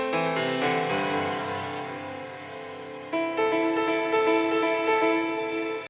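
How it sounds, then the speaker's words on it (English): Ambient piano from the Hype plugin in an MPC, in a remix, plays soft, sustained chords that shimmer and overlap, with a fresh swell of notes entering halfway through. "I ended up adding ambient piano from Hype."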